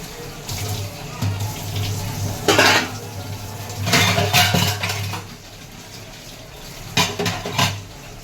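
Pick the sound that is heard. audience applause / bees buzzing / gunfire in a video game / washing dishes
washing dishes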